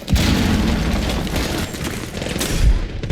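A flashbang detonates in a competitive first-person shooter match, with a sharp burst landing amid dense gunfire and booms, the loud crackle of shots continuing around it.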